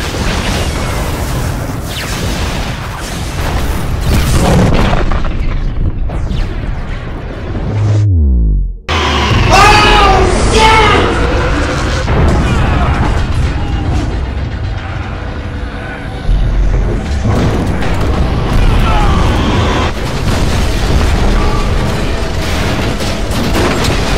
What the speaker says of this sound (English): It's a bomb.